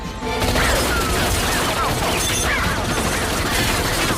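A loud, dense shootout from the action film Face Off, with continuous crashing gunfire and impacts filling the whole stretch over a busy film soundtrack.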